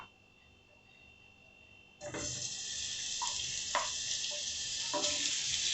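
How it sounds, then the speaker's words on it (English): Minced beef hitting hot oil for a samosa filling, quiet at first, then a sudden loud, steady hiss and sizzle that keeps going with a few crackles and small pops. "We're going to put the minced meat for it to fry and fry until it is golden"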